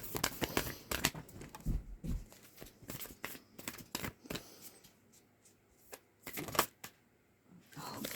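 Large tarot cards being shuffled, a dense run of crisp riffling and slapping card noises in bursts, close and fairly quiet, with brief pauses between handfuls.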